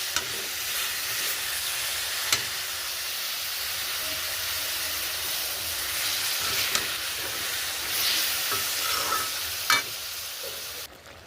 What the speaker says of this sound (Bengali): আমড়াগুলো গুড়ের সাথে ফুটছে, বাতাসার গুড়